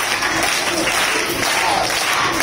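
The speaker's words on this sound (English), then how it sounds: "Can you just stand and clap it?" Workshop participants at a Yamaha musical instruments session clap together in a steady group rhythm, a dense, continuous wash of hand claps filling the room.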